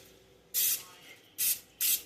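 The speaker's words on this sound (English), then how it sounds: "I don't hold the thing and spray it. I kind of do it like I'm spray painting." Cooking spray misted from a can onto a pan while making sausage balls: three loud, close hissing bursts, the first longest, the next two shorter and near together.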